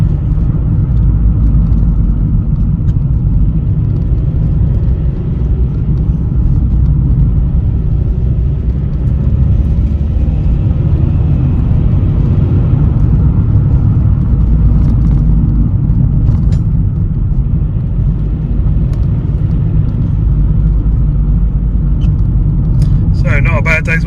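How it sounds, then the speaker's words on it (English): A Vauxhall Meriva B, a damaged car rebuilt after salvage, on its first test drive, gives off a steady low tyre and road roar that fills the cabin, constant and unbroken throughout, with a brief higher sound at the very end. "hear is the tyre noise"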